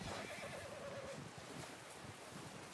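A horse whinnies loudly and close in Red Dead Redemption 2, one drawn-out neigh over a steady outdoor game ambience, with light hoof clops mixed in.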